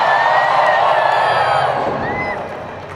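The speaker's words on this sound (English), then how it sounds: "Big cheers for Archangel" A packed crowd at a lucha libre wrestling show roars and cheers continuously, with whoops and shouts rising above a dense wall of noise that eases slightly toward the end.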